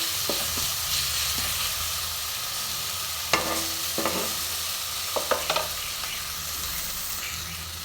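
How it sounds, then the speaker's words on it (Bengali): Ground spice paste and vegetables sizzle steadily in a pan for a Bengali vegetable and fish chorchori, with a few sharp scrapes and knocks of a stirring spoon against the pan. "একটু ভাজা ভাজা করে আমি ভেজে রাখা সবজিগুলো দিয়ে দেবো।"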